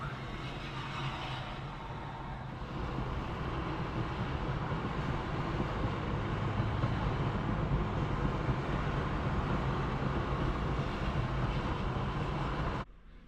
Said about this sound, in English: And there's a tram passing just now down there.